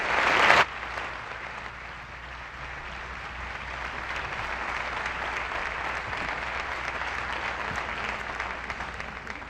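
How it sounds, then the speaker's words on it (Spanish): Sustained applause from an audience honoring the staff of Mexico's National Human Rights Commission (CNDH) at an anniversary ceremony, steady and fairly even throughout after a brief louder burst at the start. "Reconocemos la entrega y trayectoria del personal de la CNDH con un fuerte aplauso"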